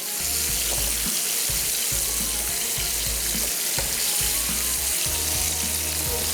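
Chicken chunks fry in hot oil with a loud, steady sizzle that goes on without a break, broken by low clunks and bumps from the pan. No one talks.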